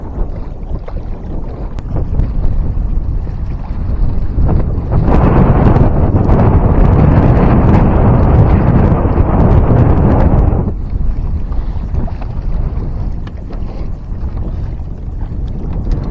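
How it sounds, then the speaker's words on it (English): Strong wind on Apache Lake, Arizona, buffeting the microphone in a loud constant roar that swells even stronger for several seconds in the middle before easing back, with no voices. "It's no fun out here in the wind."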